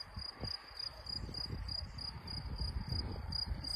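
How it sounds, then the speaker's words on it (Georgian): Crickets and other insects chirp steadily outdoors in a quiet natural spot, a faint, high, evenly pulsing trill that continues alone without voices. "ჩიკ-ჩიკი, თუ ჭრიჭინი, რაღაცის ჭრიჭინი თუ გესმით"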